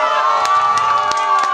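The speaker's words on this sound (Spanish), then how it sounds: "Un aplauso." A bar crowd at a live band show cheers and shouts, with excited voices and whoops over a steady sustained musical drone and a few sharp claps or bangs scattered through.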